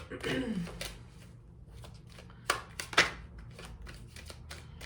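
Tarot cards are drawn and handled, with soft papery shuffles and a few sharp card flicks and snaps near the middle, close to the microphone, while a voice talks over part of it.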